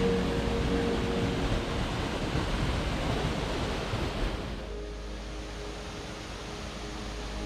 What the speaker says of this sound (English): I'm not sure what's louder, the noise of the waterfall or the noise of the bugs.